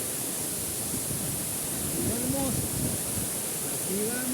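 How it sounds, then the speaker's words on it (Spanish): El Saltillo waterfall in the Sierra Nevada gives a steady, enveloping rush of falling water that fills the whole scene, with a voice speaking briefly over the roar. "vean esta majestuosa cascada, miren esta hermosura"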